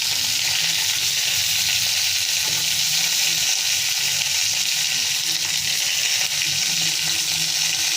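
Ingredients for mint chutney sautéing in a pan, a steady bright sizzle with faint stirring scrapes running continuously, no voices.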